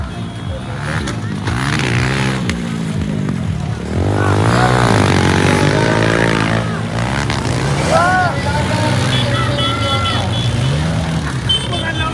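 Kawasaki KLX 150cc dirt bikes ridden hard by pro riders at a promotional race, engines revving and rising in pitch as they pass, loud and continuous with a commentator talking over them throughout.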